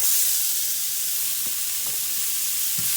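Chopped leeks fry in butter in a pan, giving a continuous close, bright sizzle with a few faint stirring clicks and no voices.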